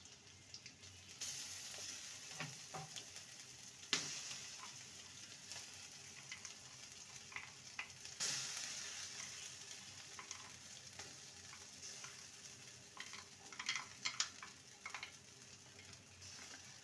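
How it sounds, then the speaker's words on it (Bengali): Ground green pea paste frying with ginger and garlic in a pan, a steady close sizzle with occasional scraping stirs and small clinks, no talking. "ভালো করে নেড়ে নেব মটরশুঁটির যে একটা কাঁচা গন্ধ থাকে সেটা যাতে চলে যায় সেইভাবেই নেড়ে নিতে হবে"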